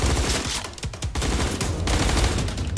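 Dense gunfire in the browser battle game surviv.io, rapid overlapping shots forming a loud continuous barrage with a brief lull partway through.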